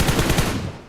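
Rapid automatic gunfire rings out in the BGMI battle royale game, a loud, close burst of evenly spaced shots that fades away within a second.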